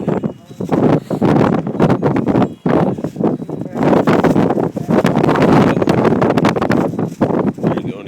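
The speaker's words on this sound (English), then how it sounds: "Too windy, man." Strong wind buffets an outdoor microphone, a loud continuous roar with gusty surges and brief dips, close and overwhelming, with no voices over it.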